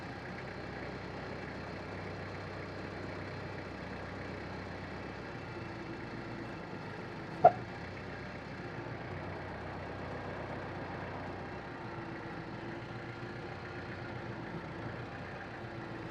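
A tractor engine idles steadily throughout, a continuous low rumble with one brief sharp click midway.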